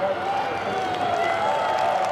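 A crowd of 40,000 at the Pukekohe Supercars race cheering and applauding, a dense continuous roar with a sustained whistling tone running through it, loud and close throughout.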